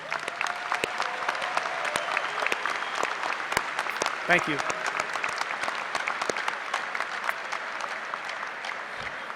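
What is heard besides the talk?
commencement audience applause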